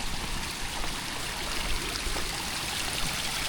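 A continuous, gentle rush of stream water flowing over rocks on a rainy day on Hong Kong Trail Section 4 near Aberdeen Reservoirs, steady and moderately close, with no voices.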